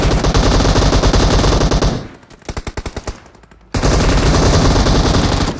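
Rapid automatic gunfire in a battle royale video game rattles loud and continuous, drops to a short burst of separate shots, then resumes as sustained heavy fire.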